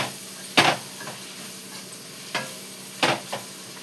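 Broad beans (chikkudukaya) fry in a pan with spices, giving a soft continuous sizzle broken by several sharp scraping strokes of a spoon stirring them.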